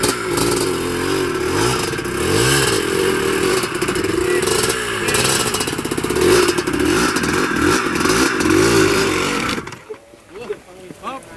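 An off-road motorcycle revs hard while climbing uphill on a trail near Tabaco, its engine loud and close for about nine seconds with rough clatter, then it cuts off abruptly, leaving faint voices.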